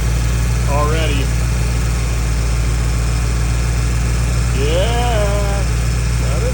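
A 1987 Ford Crown Victoria idles with its AC compressor running, giving a steady, loud low hum that holds throughout, with two brief voice-like sounds on top.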